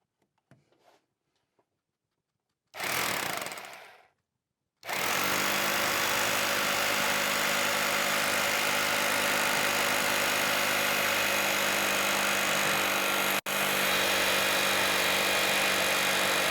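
A power drill bores into a wall to fix shelf wall strips, running loud and steady for about ten seconds with a brief cut, after a short earlier burst of drilling.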